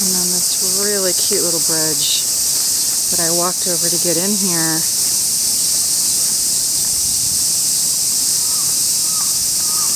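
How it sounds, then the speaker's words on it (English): Dense, steady chirping of tropical-sounding insects fills a Tokyo shrine park on a late July afternoon, a continuous high shrill drone throughout, with a person speaking over it early on and faint bird calls later. "I don't know if you can hear the various sort of tropical sounding insects in the background"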